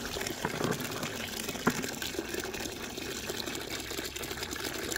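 A stick stirs black walnuts around in water, making a continuous sloshing, churning wash with knocking and rattling nuts, steady and close, with faint talk in the background.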